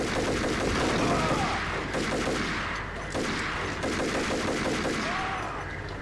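Gunfire in the Max Payne video game crackles in dense, rapid bursts like automatic weapons, loud and close, with the shots blurring into a steady barrage across the whole stretch.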